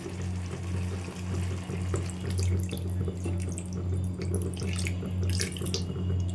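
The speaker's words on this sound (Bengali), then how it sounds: "এবার একটু সামান্য পরিমাণে জল দিয়ে দেবো" Water runs steadily into a cooking pan of vegetable curry, a continuous close pouring and splashing sound heard alone for several seconds.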